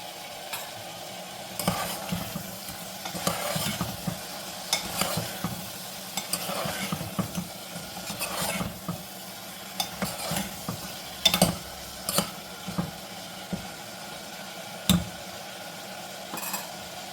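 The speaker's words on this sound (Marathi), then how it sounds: "थोडा वेळ आपण हे असंच मटण मध्यम आचेवर थोडा वेळ शिजवून घेऊया" Mutton simmers and sizzles in a pan over medium heat for a mutton masala, a steady low frying crackle broken by the occasional scrape and clink of a stirring spoon against the pan.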